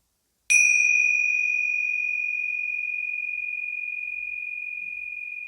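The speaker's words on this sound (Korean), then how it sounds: "두 번째 종소리." A single meditation bell is struck once, a clear bright ring that sustains and slowly fades for several seconds in quiet surroundings.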